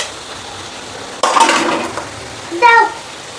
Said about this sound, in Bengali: সেই মাছগুলো দিয়ে দিতেছি